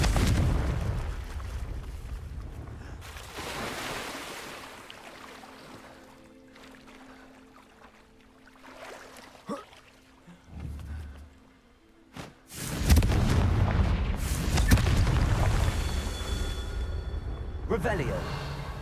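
Confringo fire spells blasting in the Hogwarts Legacy video game, heavy booming bursts at the start and again at the end, with a quieter stretch between.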